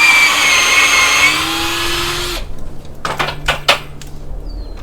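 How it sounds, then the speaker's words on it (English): Screws are driven into the wooden planks of an elevated raised bed garden enclosure built on 4x4 posts. A steady, close driver whir runs for about two seconds, then cuts off, followed by several sharp clicks and knocks. "Screw holes here."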